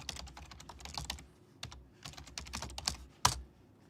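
Someone types on a Logitech K330 computer keyboard in quick, uneven bursts of clicking keys, with short pauses and one louder clack near the end. It sounds close, and no one talks.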